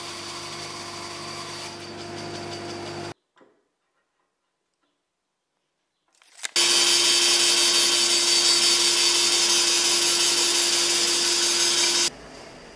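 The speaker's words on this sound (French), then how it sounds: "Je le refends donc à la scie à ruban" A band saw runs loud and steady ripping wood, cutting out for a few seconds of near silence before a sharp restart and another long, harsh stretch of cutting.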